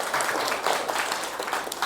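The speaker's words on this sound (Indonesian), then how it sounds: "Yuk kita tepuk tangan dulu" A classroom of high school students claps together in a brief burst of dense, lively applause, close and fairly loud throughout.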